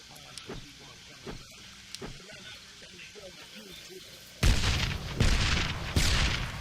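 Heavy booming video game explosions erupt partway through and roll on loudly in succession, after a quieter stretch with scattered faint sounds.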